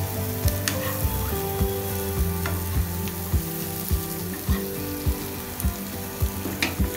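Boiled potatoes fry in oil over a medium-high flame, with a constant loud sizzle and evenly spaced soft knocks from a spatula turning them about every half second.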